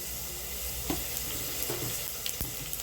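Black cumin seeds sizzle in hot oil with a faint, steady crackle, punctuated by a few brief stirring clicks and scrapes, and no voices.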